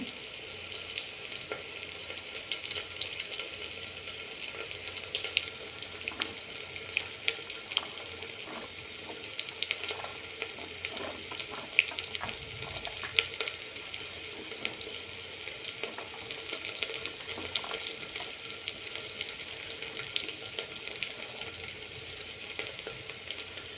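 Okra and onions frying in oil in a pan give a continuous soft sizzle with occasional stirring clinks and scrapes, steady and close, with no talking.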